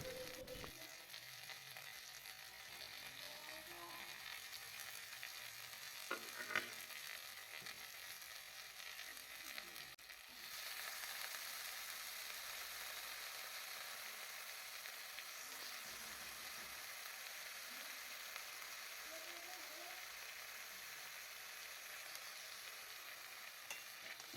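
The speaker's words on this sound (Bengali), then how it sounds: "এবারে আমি এই সজনে ফুলগুলো এর মধ্যে ছেড়ে দেবো" Drumstick flowers go into a spiced pan for a Bengali chorchori and fry with a low, steady sizzle throughout, marked by a few soft stirring knocks and a short pause midway.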